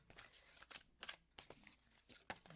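A tarot card deck being shuffled by hand, a series of quick, close riffling and flicking bursts in an irregular rhythm, fairly quiet with short pauses between.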